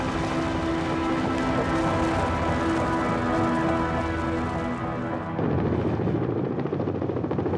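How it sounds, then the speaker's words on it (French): Firefighting helicopters over a wildfire give a dense, steady rotor drone with a loud thrumming hum that cuts off sharply near the end, leaving rougher rushing noise. "on fait appel aux hélicoptères pour porter le feu au feu."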